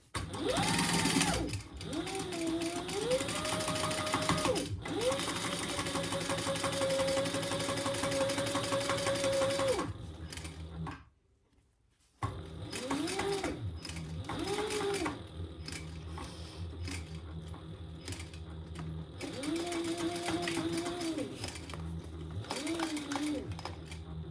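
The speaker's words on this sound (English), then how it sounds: "we're going to sew the bottom only at 1/4 of an inch seam allowance" A sewing machine sews the bottom seam of a crossbody bag at a quarter-inch allowance, a loud close motor hum running in long stretches with speed changes, broken by one brief silent stop before resuming.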